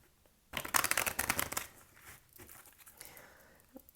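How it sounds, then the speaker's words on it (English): A deck of cards is shuffled by hand, a dense burst of rapid riffling flutter for about a second, then softer shuffling and card handling that tapers off. "Suck at shuffling today."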